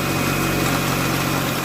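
A Honda Integra engine idles just after an engine cleaning, a car known for a misfire once warm; a brief, steady, close rumble with no voices.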